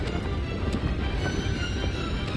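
Horse hooves galloping in the video game Shadow of the Colossus, a rapid, continuous clip-clop under a dense wash of wind and ambient noise.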